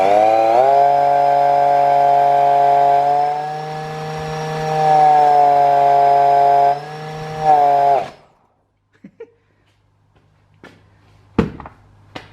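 Ported Eaton M90 supercharger spun up on the bench, giving a loud, steady harmonic whine that rises slightly and holds for about eight seconds before cutting off, followed by a few faint clicks and knocks.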